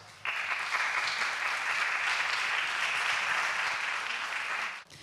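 Sustained audience applause welcoming a speaker at the closing lecture of an international human rights forum, starting abruptly, holding steady and loud for several seconds, then cutting off near the end.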